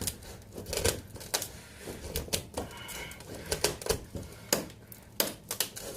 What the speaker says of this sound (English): And it appears I'm cutting in at an angle.